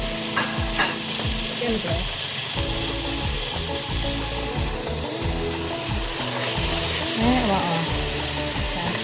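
Chicken breast sautés in a hot pan for pancit, loud continuous sizzling broken up by repeated scraping strokes of a stirring utensil, with a few brief words spoken over it.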